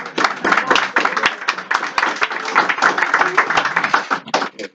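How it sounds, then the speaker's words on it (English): An audience claps and applauds for Genevieve, a steady dense patter of many hands lasting throughout, fairly loud and close with no talk over it. "give her a round of applause"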